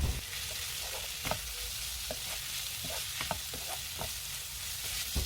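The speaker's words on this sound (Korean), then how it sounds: "양념이 무에 잘 스며들면 이제 밑간을 해놓은 불린 당면을 넣고 함께 볶아주세요" Soft continuous sizzle of radish stir-frying with soy sauce, oyster sauce and soaked glass noodles, with scattered clicks and scrapes of a utensil in the pan, close but fairly quiet, no talking.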